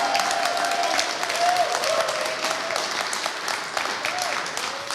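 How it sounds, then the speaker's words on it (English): An audience at a talkback event for a stage play cheers on a performer with dense, continuous applause that stays loud throughout, with a few voices mixed into the clapping. "Can y'all give him some little applause?"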